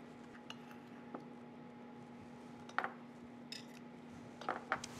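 A spoon clinks against a dish while short ribs in stew are cut, giving a few sharp, light taps scattered over a quiet, steady background hum, with no talk.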